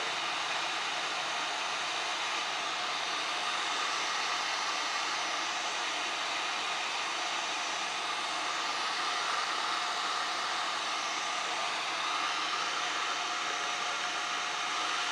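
A hot air rework tool heats solder to lift a NAND flash chip off a FiOS G3100 router board, giving a loud, steady blowing hiss that runs unbroken from start to finish with no voices.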